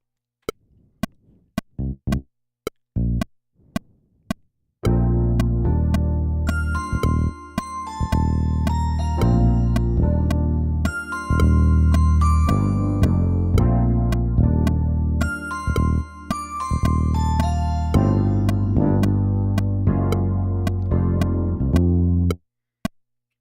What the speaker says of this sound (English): this bell sound, so let's see if I can come up with a bell part that works